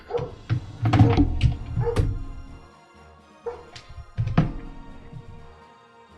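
A dog indoors barks and yips in several short bursts, with whimpers and a few thumps in between, fairly close and loud with a brief pause before more barking.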